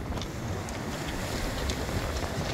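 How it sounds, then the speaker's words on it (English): Wind buffets the microphone in a steady, rumbling roar with gusty low-end thumps, no voices present, on the coast at Lyme Regis. "It's a little bit windy."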